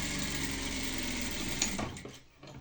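Sewing machine running steadily as it stitches a seam parallel to the edge of a fabric drawstring bag with a sewn-on casing, a close continuous mechanical whir that slows and stops near the end.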